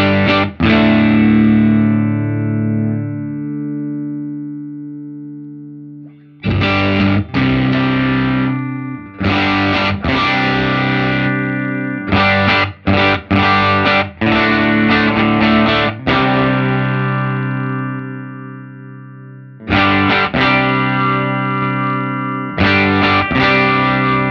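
Electric guitar run through a Line 6 Helix effects processor with room reverb and distortion, strummed chords ringing out loud with long sustain, then stopping and restarting in bursts with brief gaps of silence.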